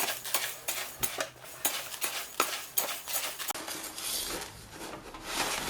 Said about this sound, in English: I use a variety of mixing techniques, from scooping from bottom and tossing upward,